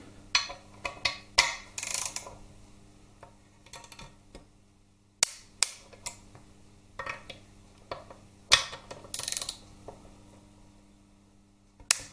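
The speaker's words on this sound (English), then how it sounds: "So I've got my torque wrench already set up." Torque wrench tightening screws on a Harley-Davidson Twin Cam 88 engine during a rebuild, sharp close metallic clicks and ticks in irregular bursts with quiet gaps between.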